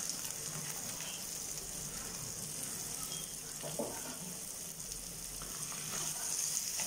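Carrot, capsicum and beans sizzling and frying in a pan, a steady faint hiss throughout with occasional stirring noises and no talking.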